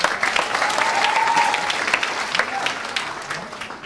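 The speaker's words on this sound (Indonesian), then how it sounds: "Tepuk tangan buat Gerindra." A political rally crowd applauds in a sustained wash of claps for the Gerindra party, with voices calling out over the clapping throughout.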